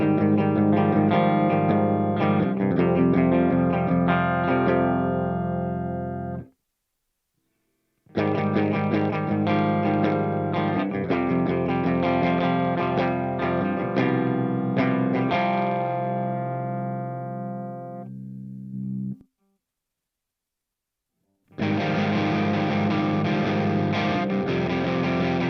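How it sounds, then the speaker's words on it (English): Electric guitar power amp distortion captured with a ToneX pedal: loud, gritty strummed chords and picked notes ring out in three sustained passages separated by short silences, with notes decaying before each break. "Have you ever wondered what power amp distortion sounds like?"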